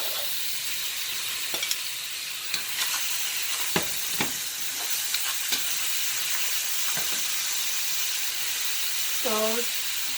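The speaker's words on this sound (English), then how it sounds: "I'm gonna add half of the butter. Now the name is garlic butter shrimp, so you have to expect some butter. To that I'm gonna add my shrimp." Shrimp cooking in melted butter with garlic in a pan, a soft continuous sizzle and hiss with occasional utensil clicks, a brief whistle-like squeak near the end.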